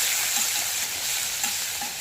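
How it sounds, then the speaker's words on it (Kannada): Onion and tomato fry in a pan for kichdi, giving a steady, close, broadband sizzle that holds evenly throughout with no voices. "ಟೊಮ್ಯಾಟೊ ಹಾಕ್ಕೊಂಡು ಚೆಂದಾಗಿ ಒಂದ್ಸಲ ಫ್ರೈ ಮಾಡ್ಕೋಬೇಕು"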